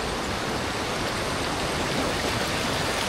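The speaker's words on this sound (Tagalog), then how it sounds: "Maririnig mo lang dito mga huni ng ibon, saka yung lagaslas ng tubig." Water rushing at Pinamun-an Falls, a waterfall in Nagcarlan, Laguna: a dense, constant roar of falling water, loud and steady throughout with no pauses.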